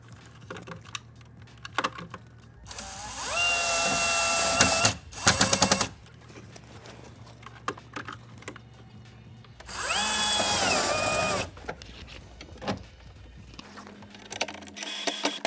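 Power drill driving screws to mount a part for a Delta hands-free faucet installation, two loud whirring bursts of a couple of seconds each that rise in pitch as they spin up, with clicks and handling noises between them, close up.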